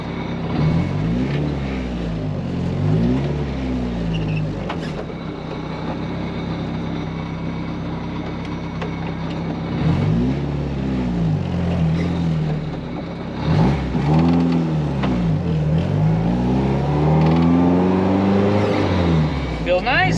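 A car fitted with a BEAMS 3SGE transmission drives and runs up through its gears, the engine note repeatedly climbing and dropping at each shift, loud and close from inside the cabin, with no talk over it.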